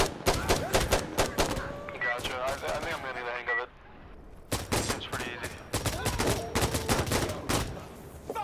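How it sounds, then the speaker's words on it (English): A minigun call-in fires in a video game with several rapid bursts of dense, clattering gunfire. A short pause in the middle carries a faint voice, then the bursts resume. "that minigun call-in was good"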